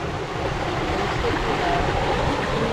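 Water rushing through a mill sluice in an outdoor village setting, a steady broadband roar of flowing water that fills the whole stretch evenly and close by, with no voices over it.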